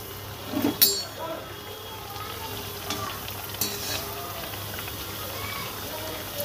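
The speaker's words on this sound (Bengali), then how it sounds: "সেটাই আমি এখানে লুচিটা ভেজে নিচ্ছি" Luchi, puffed flatbread, frying in hot oil in a village kitchen, giving a steady close sizzle with a few sharper crackles and utensil clinks near the start.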